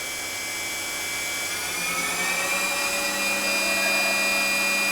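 A used FADAL 6030 HT CNC vertical machining center spindle runs steadily at 6,500 rpm, a smooth sustained whine with bright tonal lines, rising slightly in level as it settles, heard close with no talk.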